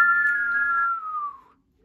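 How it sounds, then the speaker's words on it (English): A person whistles one clear, close tone that holds steady, then glides downward and fades out within about a second and a half. "Can you whistle? Yes,"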